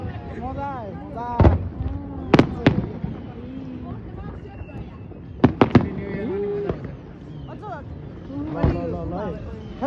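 Fireworks bursting at an end-of-summer, end-of-boating-season gathering: a handful of sharp cracks and booms in small clusters, with whistling rockets and people chattering and cheering around them.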